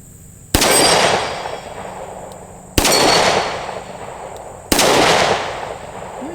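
A Smith and Wesson 642 revolver fires three loud, close gunshots at an outdoor range, each a sharp crack followed by a ringing decay, spaced about two seconds apart.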